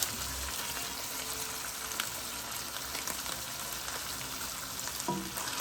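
Ground beef with canned ranch style beans and taco seasoning is stirred in a pan, giving a steady close sizzle and soft scraping throughout, with a sharper utensil knock near the end.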